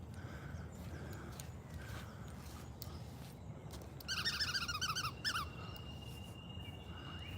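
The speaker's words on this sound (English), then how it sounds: "You can hear the birds this morning." Birds sing on a morning in a park, a run of bright repeated chirps rising over steady outdoor background noise for about a second, with fainter scattered calls before and a thin high whistle after.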